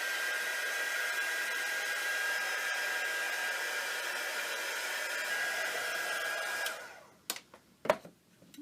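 A hair dryer blows steadily as it dries spray ink on a mixed media art journal page, a constant close whooshing hum that cuts off near the end, followed by a few faint knocks.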